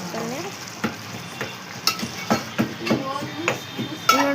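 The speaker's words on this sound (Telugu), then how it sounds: "చికెన్ ఇట్లా ఉడుకుతుంది." Chicken fries in a pan while being stirred, a steady sizzle punctuated by scrapes and clinks of a spoon against the metal.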